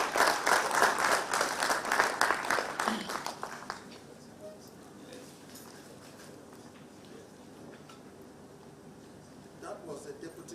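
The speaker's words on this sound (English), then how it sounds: "Another round of applause for him." A conference audience on farmer-herder relations in Nigeria claps loudly for about four seconds, then the room falls quiet with faint murmuring and a brief voice near the end.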